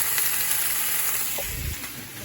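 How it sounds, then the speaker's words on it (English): Tomatoes toast in a hot pan with a steady, close hiss of sizzling that holds at an even level throughout, with a faint low thump near the end. "that noise, sizzling noise in the background are the tomatoes"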